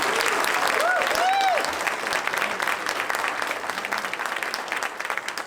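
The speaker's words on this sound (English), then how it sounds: "So maybe one more round of applause." Audience applause at an evening jazz concert, dense crowd clapping that starts loud over a briefly sounding instrument, then thins and fades gradually toward the end.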